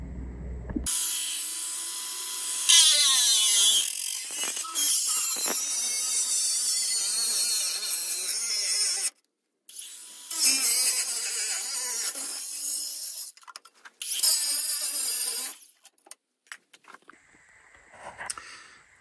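Power tool cutting through rusty sheet metal on the underside of a Renault 4L being restored, a loud hissing, grinding whine in long bursts broken by short pauses, with no speech.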